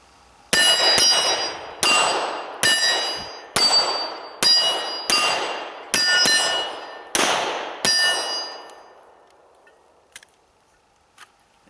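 Glock 17 pistol shots ringing off steel targets on an outdoor range: about ten loud, sharp metallic clangs at an irregular, roughly even pace, each with a bright ringing decay, then fading to quiet with a couple of faint distant pops.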